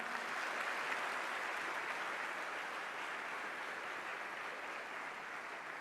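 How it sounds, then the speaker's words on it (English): An audience at a management conclave in Indore applauds to welcome Dr. Ram Charan, a broad, even hiss of many clapping hands heard from a distance, steady and moderately faint throughout. "let us give him a warm applause and a fitting, affectionate Indore style standing ovation"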